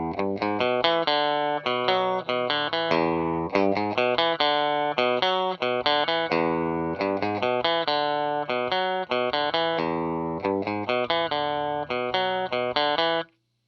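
An electric guitar plays a busy run of plucked notes and chords through a 1960s Gibson GA-5 Skylark amp, bright and close, ending abruptly.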